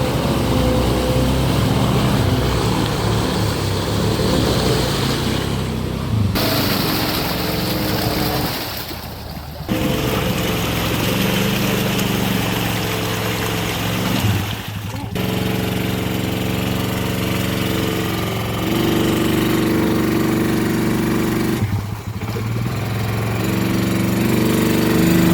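A Honda Foreman ATV on 35-inch tires churns through a deep, thick mud hole, its engine roaring loudly and steadily with brief dips in revving, accompanied by splashing mud and water.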